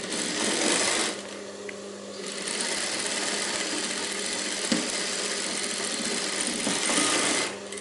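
Sewing machine stitching a princess-cut blouse, a close, steady mechanical whir running through nearly the whole stretch, easing briefly near the start before picking back up.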